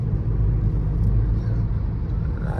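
Motorbikes ride past on a road near Tajpur sea beach, a steady low engine rumble and road roar holding close and loud throughout without a clear single pass-by.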